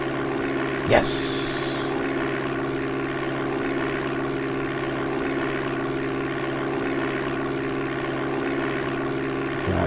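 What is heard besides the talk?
propeller aircraft engine at full power, Amiga Flight Simulator II game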